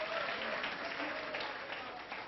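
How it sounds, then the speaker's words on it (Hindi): Applause from a classroom audience of students fills the whole stretch, a dense, steady patter of many hands clapping at moderate loudness with no clear break. "एक बार तालियां ठोको इसके लिए"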